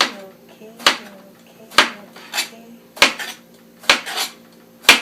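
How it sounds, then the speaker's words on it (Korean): A knife cuts eggplant into thin strips on a cutting board, giving sharp, separate knocks about once a second with short scraping noises between them. The chopping is close and clear, and no one speaks. "가지도 옆으로 얇게 채 썰어 주세요."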